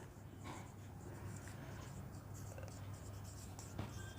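Pen or marker writing an example during a chemistry lesson, faint soft strokes and scratches over a steady low hum of room noise, quiet and close.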